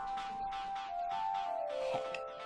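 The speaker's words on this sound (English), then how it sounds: "Oh my god, my cat." A pet cat gives a long, drawn-out meow that bends in pitch, fairly close and clear over faint room noise.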